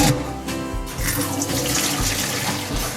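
Chili cooking liquid with vegetables being poured through a strainer, a steady splashing, running-water wash held close and continuous throughout, with no talk.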